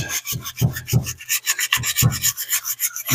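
Sandpaper scrubs old muck off the body of an Edsel car in quick back-and-forth strokes, a close, rhythmic rasping with short pauses between passes and no voices.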